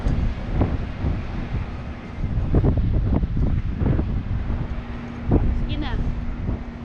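Wind gusts outdoors at Pechanga Resort and Casino in Temecula, California, buffeting the microphone as a steady broadband roar, with people talking over it throughout.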